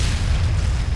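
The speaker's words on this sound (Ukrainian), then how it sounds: "Зробимо постріл з танку." A heavy, booming tank cannon shot in Combat Mission Shock Force 2, with a deep rumbling low end, loud and filling the moment.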